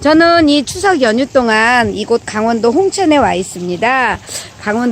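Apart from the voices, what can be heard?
No everyday noise stands out behind the speech.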